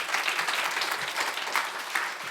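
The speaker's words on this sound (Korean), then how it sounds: "큰 박수 부탁드릴게요" An audience at a worship concert in a church applauds a pastor with a continuous, fairly close burst of clapping that stays steady through the short stretch.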